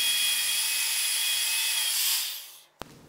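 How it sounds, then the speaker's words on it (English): A power drill fitted with a 4 mm bit bores through a thick metal piece, a steady high whine for about two seconds that fades out, followed by a single sharp click. "So let's drill a hole with this 4 mm bit."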